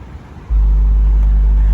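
A 50 Hz bass test tone from a car subwoofer, heard outside with the windows down, starts abruptly and holds as a loud, steady, deep hum.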